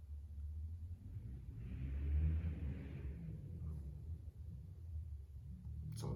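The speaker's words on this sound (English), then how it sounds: "Someone's revving their engine." A car engine revs somewhere outside, swelling into a low rumbling roar for a couple of seconds and then settling, fairly distant and faint against quiet room noise.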